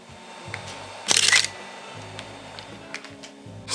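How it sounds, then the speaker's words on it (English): Hasselblad H3D-39 medium-format camera shutter firing once, a crisp, loud mechanical clack-and-whir lasting under half a second against faint room noise. "what I deeply love is the sound of this camera"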